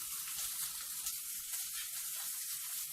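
Fish frying skin-side down in hot oil in a pan, a steady close crackling sizzle with faint bubbling throughout and no talk.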